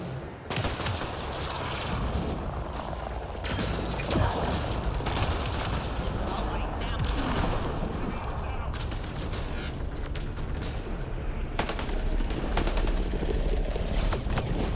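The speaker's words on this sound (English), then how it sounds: "Stop shooting at me." Sustained rapid gunfire from enemy combatants in a Ket labor camp in Mass Effect Andromeda, dense bursts and volleys running continuously throughout, loud and close, with occasional mechanical clanks.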